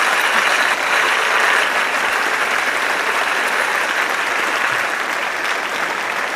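Applause sound effect triggered by confetti during an online event, a loud, even, unbroken roar of clapping that fills the moment with no talk over it.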